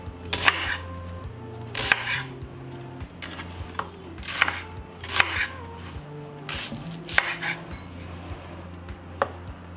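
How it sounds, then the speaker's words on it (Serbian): A knife chops onions into pieces on a board, with about seven crisp, evenly spaced strokes around a second and a half apart, fairly quiet over a low background hum. "Iseći ću luk na komade jer ću ga stavljati u secka."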